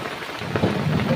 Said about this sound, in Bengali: এখানে প্রচুর বৃষ্টি